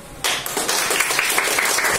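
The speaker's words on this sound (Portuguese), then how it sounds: "Quem gostou do primeiro, pode aplaudir." Schoolchildren in a classroom applauding a drawing, a burst of many small hands clapping that starts abruptly and continues steadily and close for about two seconds.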